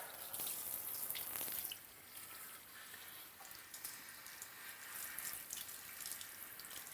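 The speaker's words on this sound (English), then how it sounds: "Now I'm going to rinse this out and we're going to go for the second round." Warm tap water runs steadily into a sink while a hair system is rinsed, a close hissing stream with splashes that is strongest at the start, then continues slightly softer.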